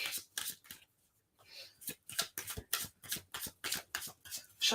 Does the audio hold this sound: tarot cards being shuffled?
yes